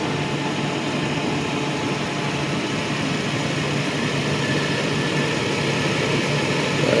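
A 1995 Mercedes S600 coupe idles steadily with its repaired exhaust, a low continuous hum with a faint tonal drone heard close from beneath the car, with no talking.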